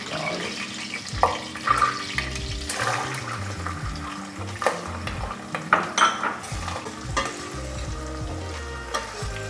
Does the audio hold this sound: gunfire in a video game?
no